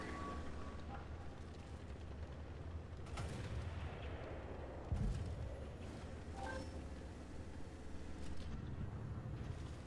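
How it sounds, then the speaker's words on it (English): Tank cannon fire in World of Tanks from the American tier VIII T32 heavy tank: dull booming shots over a constant engine rumble and battle noise, with one heavier thump midway. "we're just able to slip shots in like that rather quickly"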